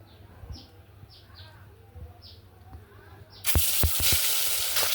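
Fish hitting hot oil in a wok bursts into a loud, steady sizzle partway through, after a quieter stretch with bird chirps in the background.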